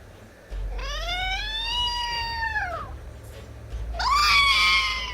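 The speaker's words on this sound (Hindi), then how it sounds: "बिल्ली जब इस तरह चिल्लाती है खतरनाक तरीके से, खतरनाक उसके आवाज होते हैं।" A cat lets out two long, loud yowls, the first drawn out and wavering, the second rising sharply, over a low background hum.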